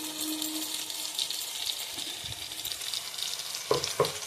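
Ginger paste sizzling in a hot pan while being stirred, a continuous hissing fry with a couple of clear scrapes near the end.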